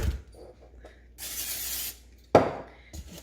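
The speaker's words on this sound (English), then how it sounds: "I'll spray the bottom." Cooking spray hisses from a can onto pretzel dough in a bowl, one long burst of about a second, then a short sharp spray, with faint handling noises between.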